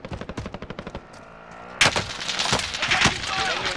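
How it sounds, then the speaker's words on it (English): Rapid gunfire in Call of Duty Warzone: a fast run of evenly spaced shots, then a louder burst of heavy, overlapping fire with echoing blasts continuing to the end. "Loads of shooting going on down there."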